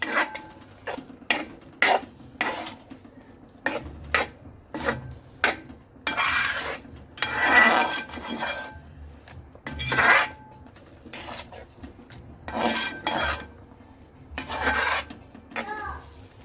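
A spoon stirs kalan curry in an uruli, a traditional Kerala bronze pot, in repeated bursts of scraping and rasping against the metal sides, close and uneven, separated by short quiet pauses.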